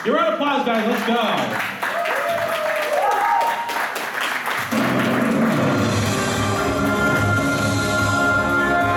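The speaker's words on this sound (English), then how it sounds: "Give a round of applause, guys." Audience applause at an anime convention game show, 'Who Wants to be an Animillionaire?', at Another Anime Con 2022. Voices come first, then a loud, dense wash of clapping rises partway through and holds steady to the end alongside music.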